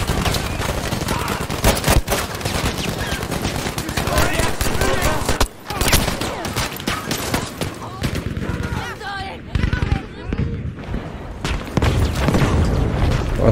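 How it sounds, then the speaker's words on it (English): Rapid gunfire and booming blasts from the Battlefield V video game on Xbox One, dense and continuous for the whole stretch with a brief dip near the middle, under a player's voice talking. "I'll lay down cover fire"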